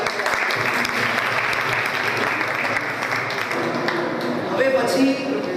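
Loud, sustained applause from a large crowd at a Shree Kutch Gurjar Jain Samaj community gathering, steady dense clapping throughout with voices mixed in toward the end.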